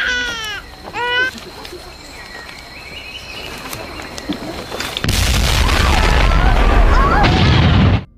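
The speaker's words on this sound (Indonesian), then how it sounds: "dikagetkan dengan suara ledakan yang begitu dahsyat" A colossal eruption blast from the Krakatoa volcano in a disaster film: after quieter moments with chirping, a sudden massive deep boom bursts in and holds as a loud, sustained roaring rumble to the end.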